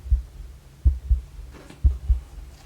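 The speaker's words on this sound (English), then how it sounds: "Heartbeat." Heartbeat sound effect in a pop song, deep thumping double beats repeating in a slow steady rhythm, close and bass-heavy, with faint music underneath.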